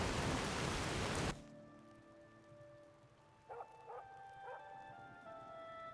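Heavy rain roars loudly in the video game Skyblivion, then cuts off abruptly after about a second, leaving quiet ambient tones with a few faint yipping calls.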